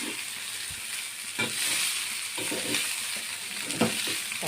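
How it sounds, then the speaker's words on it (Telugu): Cooked rice being stirred in a pan with fried Indian-style tempering for tempered rice, a steady close sizzle with scraping and stirring strokes throughout, no talking. "కలిసేలా కలుపుకుందామండి."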